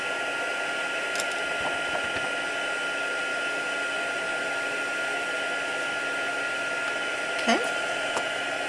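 A heat tool blows steadily to set gold embossing powder, a continuous close whirring hiss that runs throughout, with a few faint clicks and a brief spoken word.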